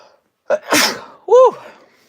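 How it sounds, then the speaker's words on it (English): A single loud sneeze in a quiet room, a short sharp intake followed by a broad explosive burst and a brief voiced tail, heard up close with nothing else around it. "I gotta sneeze."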